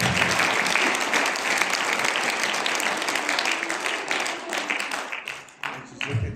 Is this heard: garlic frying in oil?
no